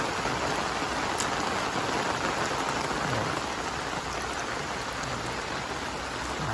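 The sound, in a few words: rain pouring down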